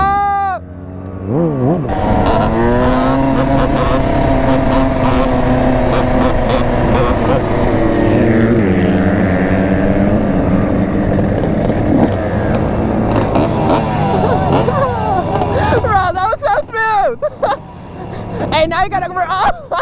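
A sport bike engine held against its rev limiter, a loud sustained buzzing drone with rapid stuttering cut-outs at a busy lot, with crowd chatter and shouting voices over and around it.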